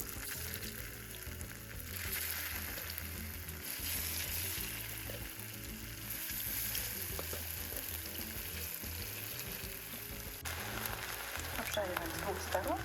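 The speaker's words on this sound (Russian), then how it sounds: "Теперь мы все это смешаем и будем жарить наши оладушки." Steady sizzling and crackling of small pancake batter frying in a well-heated pan, continuous and fairly close, with a brief shift in texture near the end.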